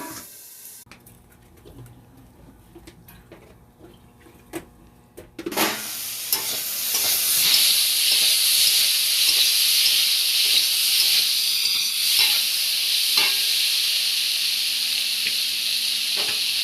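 Vegetables with turmeric frying and being stirred in a pan: quiet scraping and clinks at first, then a sudden loud hissing sizzle as food hits the hot oil, continuing steadily with occasional stirring.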